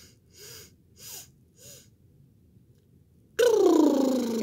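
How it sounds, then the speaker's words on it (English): Three soft nasal inhalations come in a slow, even rhythm, followed by a long, louder breath pushed steadily out through the mouth, close and alone in a quiet room. "we're going to fill up our balloon breathing in our nose, and then we're going to deflate the balloon breathing out of our mouth slowly"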